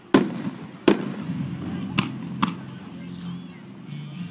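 Fireworks display in Henderson, Kentucky: four sharp bangs burst at irregular intervals, then fade into a low rumble, with crowd voices in the background.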